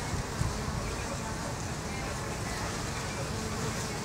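Honeybees buzz at a hive entrance outdoors, a steady, dense droning hum close by with faint road traffic in the background.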